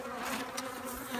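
Honeybees buzzing at an open hive during a varroa mite check, a steady close droning hum filling the whole brief moment without pause.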